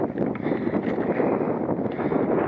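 Wind blows steadily outdoors near range fire smoke and buffets the microphone with a low, rough rumble that never lets up.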